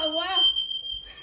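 A smoke alarm in a vacation home sounds a shrill, steady electronic tone that begins just after a brief voice and continues to the end, with a faint voice returning over it at the close.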